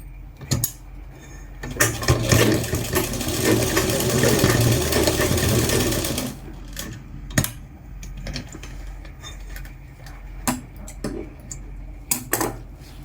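A sewing machine stitches chooridar fabric in one steady, whirring run of about four seconds, followed by clicks and handling sounds from the fabric and machine.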